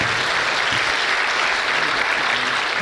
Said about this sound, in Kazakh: бір шапалақ ұрсаңыз болады